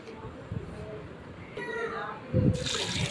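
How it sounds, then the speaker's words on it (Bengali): Chana dal (split chickpeas) being washed in water, with sloshing and pouring sounds that swell near the end, heard close up under a faint background voice. "ছোলার ডালটাকে আমি এখন ধুয়ে নেবো"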